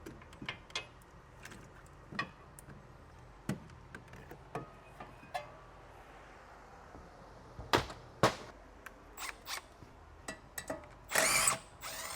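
A power tool drives out suspension control arm bolts on a 2019 Chevy Equinox during brake and strut work, giving short, sharp bursts with ticking clicks between them and a louder rattling burst near the end, heard close up with no talking.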